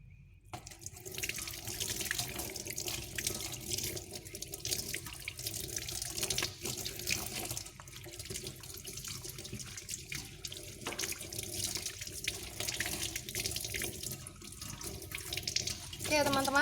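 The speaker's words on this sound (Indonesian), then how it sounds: "Oke, setelah seperti ini kita bilas kembali." Aglaonema stem and shoot cuttings are rinsed under a running tap during tissue-culture preparation, with a continuous close splashing flow of water lasting the whole stretch, slightly uneven as the cuttings move under the stream.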